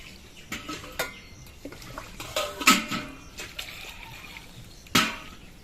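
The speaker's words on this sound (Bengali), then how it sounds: "এবার মিষ্টি কুমড়োগুলো আমি ধুয়ে নিচ্ছি" Peeled pumpkin pieces washed in water, with scattered splashes, sloshing and clinks of pieces against a bowl in short irregular bursts, close by and moderately loud.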